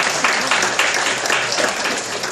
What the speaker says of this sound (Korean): 우리 자리에서 일어나시면 함께 박수로 축복하고 함께 환영하겠습니다.